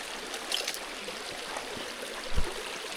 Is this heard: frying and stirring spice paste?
no